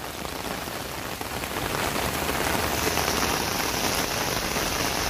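Steady rain falls in Nepal, a dense, continuous hiss of drops on surfaces that swells slightly after the first second and stays loud and close throughout, with no voices.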